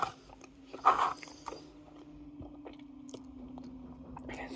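Eating a sour cream and onion flavored snack, with a close crunchy bite followed by soft, faint chewing in a quiet room.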